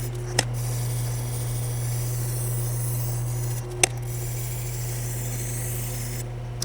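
A knife edge is deburred on a Tormek T-8 wheel sharpener, giving a steady low motor hum with a faint rubbing sound over it and two or three sharp clicks.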